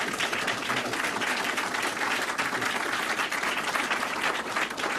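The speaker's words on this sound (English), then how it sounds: "let's all give Jay a warm round of applause" Sustained applause from an audience at an event on terror detainee policy, steady broadband clapping filling the room without pause, with no speech over it.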